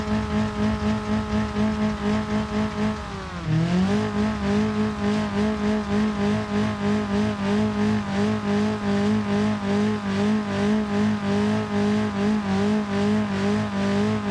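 An off-road buggy engine in BeamNG.drive bounces hard off its rev limiter, a loud, steady, pulsing buzz that dips briefly in pitch before climbing back into the same rapid, stuttering limiter drone for the rest.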